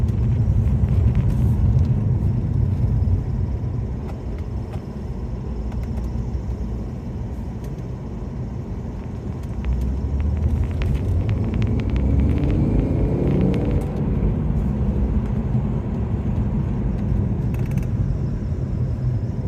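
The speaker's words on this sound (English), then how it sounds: "hopefully we can take it out for a test drive" Repaired Alfa Romeo on a test drive, heard from inside as a steady low engine and road rumble with tyre hum, swelling slightly midway, no talking.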